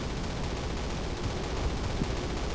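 Flak Panzer anti-aircraft gun firing in a Call of Duty World War II battle, a steady rumbling barrage of heavy fire with a couple of stronger thumps, dense and continuous throughout.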